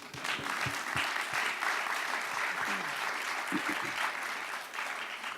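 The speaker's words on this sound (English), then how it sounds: "How about a round of applause for Room 29?" A festival crowd at a London film screening Q&A applauds the film Room 29 with sustained, fairly distant clapping and a few scattered whoops.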